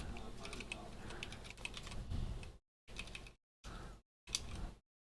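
Rapid clicking of keys typed on a computer keyboard while coding a Rust keyboard firmware project, a steady run of taps that breaks into short separate bursts with gaps of silence.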